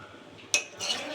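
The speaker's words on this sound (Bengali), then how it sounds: "মাটনের মধ্যে আলু আর এঁচড় যে ভেজে রেখেছিলাম সেটাও দিয়ে দিলাম, সবগুলো একসাথে সুন্দর করে কষিয়ে নিয়েছি" Mutton with fried potatoes and jackfruit stirred together in a pot, a single sharp metal spoon knock against the pot followed by a short scraping rustle, close and fairly quiet.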